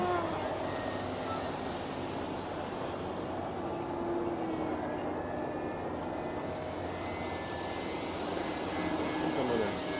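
An E-flite Timber model airplane on floats flies overhead, its motor a steady, continuous drone that holds at an even level for the whole stretch, with no voices.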